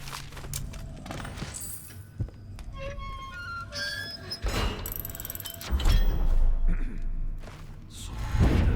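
Clicks, ratcheting and small metallic turns of a safe mechanism being worked in the video game Dishonored, set against a busy game soundscape with occasional louder bumps and faint talk.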